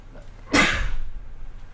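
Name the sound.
sneeze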